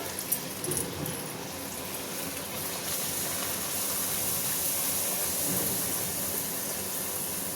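Palm fruit fritters (taler bora) fry in hot oil with a steady, dense sizzle and hiss that holds up close and even from start to finish, with no talking over it.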